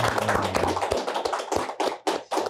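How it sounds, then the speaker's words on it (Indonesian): A burst of lively clapping from a group, close and loud, with uneven rhythm that thins out toward the end. "Tepuk tangan teman-teman."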